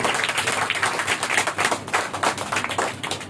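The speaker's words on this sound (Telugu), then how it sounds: "కొట్టు చప్పట్ల." An audience at a church ministry gathering claps hands in a quick, uneven patter of sharp claps that runs steadily for a few seconds at moderate loudness, with no talking.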